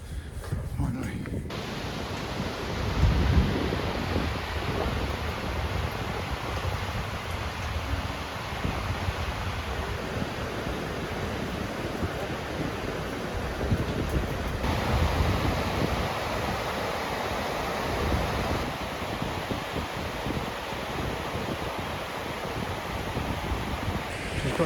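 Wind buffets the microphone at the top of a waterfall in Iceland, mixed with the broad, steady roar of rushing water that carries on for the whole stretch.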